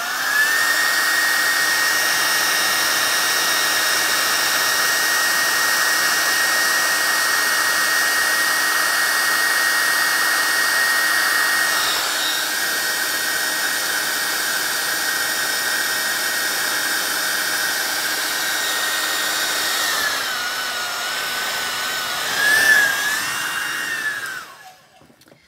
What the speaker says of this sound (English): I'm going to blow it with the dryer here a little bit.